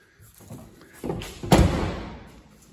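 An old square body short box 4x4 project truck's door swings and shuts with one solid, close thud, followed by a short fading rattle.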